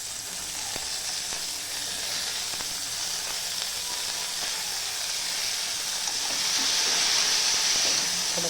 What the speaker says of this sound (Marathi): आता वाटाणे पण चांगले तेलामध्ये फ्राय करून घेते